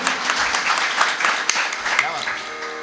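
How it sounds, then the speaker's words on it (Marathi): A crowd claps loudly at a devotional kirtan and bhajan gathering in Maharashtra: dense, busy applause with sharp individual claps standing out, while voices murmur underneath. "एकदा टाळ्या वाजत जोरदार."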